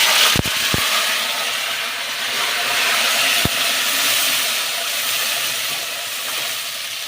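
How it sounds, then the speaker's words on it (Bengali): Ground paste of tomato, ginger, poppy seed, cashew and green chilli sizzles loudly in hot oil, a steady broadband hiss with a few brief knocks early on, alone and close. "এই পেস্টটা আবার আমি তেলের মধ্যে দিয়ে দিচ্ছি।"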